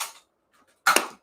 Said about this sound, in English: My wife is shooting a Nerf cannon at me.